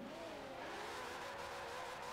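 A Nissan GT-R engine revs up as the car pulls away, a steady mid-pitched roar with a slowly rising tone that holds loud and continuous throughout, with no voices over it.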